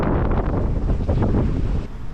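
Strong wind at sea buffets the microphone in loud, continuous gusts, with a roaring, rumbling rush throughout and no voices.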